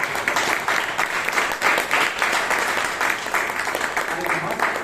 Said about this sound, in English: A big round of applause to our president.